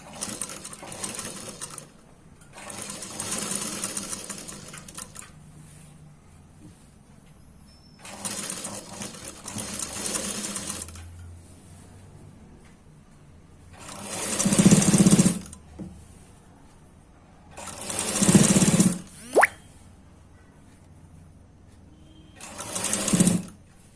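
Tailoring sewing machine stitching a collar blouse, running in several separate bursts of steady whirring with quiet pauses between, close and clear, no talking.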